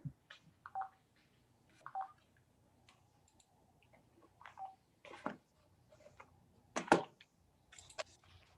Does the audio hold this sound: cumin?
no